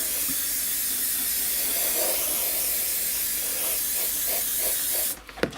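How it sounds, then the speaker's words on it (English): Gloss coat sprayed onto a 1/32 scale model base, a steady loud aerosol hiss for about five seconds that cuts off abruptly near the end. "So I'm just going to seal all this in with a gloss coat."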